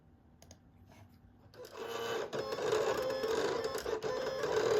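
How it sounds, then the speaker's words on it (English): After a quiet start, a vinyl cutter starts up close by, cutting a sticker design, whirring and chattering steadily with small mechanical clicks. "your rather noisy vinyl cutter will cut out your design for you"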